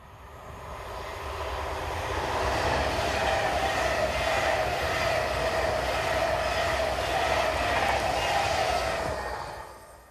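A British Railways passenger train, locomotive 39136, working the 09:47 Liverpool to Euston service, passes as a loud, steady rumble with a sustained tonal hum that swells in and fades out over about ten seconds, with no voices.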